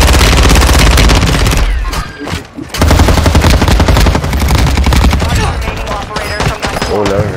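Video game gunfire rattles in loud rapid automatic bursts, almost continuous, with a short lull midway before the shooting resumes, dense and close.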